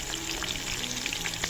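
Cabbage fritters frying in a pan of oil give a steady, close, even sizzle throughout with no voices.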